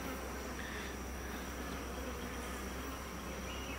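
Honey bees at an open hive make a dense, steady buzzing hum that is continuous and fairly close, with no pauses.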